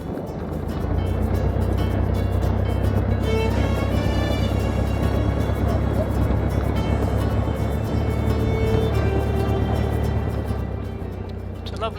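Steady droning engine of an Interstate S-1A Cadet light aircraft during its landing roll, a loud constant hum with faint wind noise and no talking.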